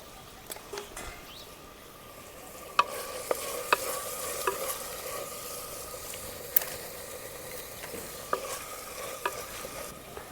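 Green peas stirred into frying green brinjal bharta in a pan: a soft, continuous sizzle under scattered sharp clicks and scrapes of a spoon against the pan, close and fairly quiet, without talking.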